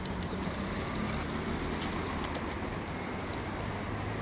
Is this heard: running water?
no